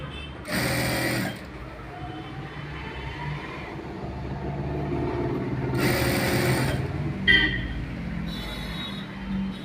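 A sewing machine stitches a sleeve onto a garment in a boutique, running in short rapid whirring bursts of about a second each, close and loud, with quieter handling and faint room sound between runs.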